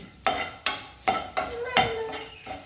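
A handful of grated coconut with a pinch of turmeric fries in a pan while a utensil stirs and scrapes it in five or six regular strokes, each a sharp metallic scrape fading into a soft sizzle, close and fairly quiet.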